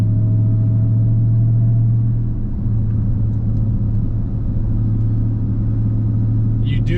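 A 2022 Dodge fitted with an AWE Track Edition exhaust cruises at about 40 mph with the windows up, giving a steady, loud low drone and rumble from inside the cabin, with no talk over it.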